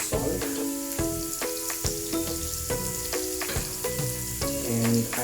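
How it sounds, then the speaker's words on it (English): Chopped onions and garlic fry in a pan with a dense, loud, close sizzle and crackle that never lets up, broken by short scrapes and taps of a stirring utensil; no voices. "So now the onions are being fried."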